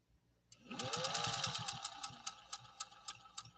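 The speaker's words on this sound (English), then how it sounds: "Give a listen to Elaine's machine" A Singer 201-2 sewing machine stitches through compressed felt: after a brief quiet start, a close, steady mechanical whir sets in with rapid, rhythmic needle clicks that gradually become more spaced as it slows.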